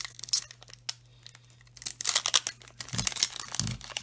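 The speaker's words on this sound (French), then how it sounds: "Ils sont toujours aussi casse-pieds à ouvrir les boosters en fait là" A Pokémon Destinées Radieuses booster pack wrapper being torn open, crinkling foil rips in bursts close to the microphone, with a couple of soft thumps near the end.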